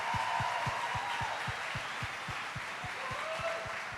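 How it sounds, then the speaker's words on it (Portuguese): Audience clapping at a Catholic festival gathering, a steady rhythmic beat of unison claps about three per second, continuous and fairly loud over a diffuse crowd wash. "Uma salva de palmas para ela."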